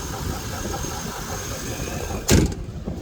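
A car engine idles steadily at close range with a smooth, even hum, then a short louder burst of noise breaks in near the end.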